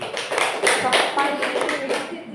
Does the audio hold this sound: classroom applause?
yes